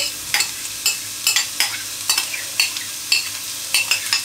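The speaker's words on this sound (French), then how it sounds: "On va y rajouter l'oignon" Onion frying in a pan sizzles steadily while a utensil is stirred through it, scraping the pan in regular, sharp strokes about twice a second, close by and with no talking.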